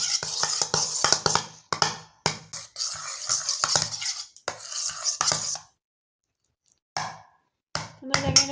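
Butter cookie dough is stirred by hand in a bowl with quick, close scraping and clinking strokes in rapid bursts, broken by a short pause before a few more scrapes.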